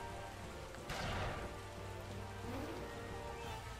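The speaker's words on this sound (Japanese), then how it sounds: "早く雨止んでほしい。" Rain in the video game Taikou Risshiden V DX, a steady hiss of rainfall pattering on surfaces, with a brief louder gust of rain and no voices.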